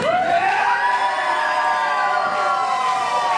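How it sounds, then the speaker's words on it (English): A wrestling crowd chants and cheers loudly in a packed arena, a dense, sustained roar with rising and falling tones filling the whole moment. "The crowd chanting "Go away" to Zach James."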